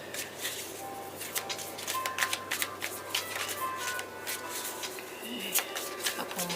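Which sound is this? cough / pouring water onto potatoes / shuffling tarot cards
shuffling tarot cards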